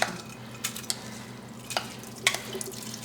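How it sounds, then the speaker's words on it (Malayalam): Broken wheat poured into a pressure cooker gives a few sharp metallic clinks and soft grainy rattles, quiet and spaced out over a low steady background hum. "നമ്മൾ നുറുക്ക് ഗോതമ്പ് കുക്കറിലേക്ക് ഇട്ട് കൊടുക്കുക."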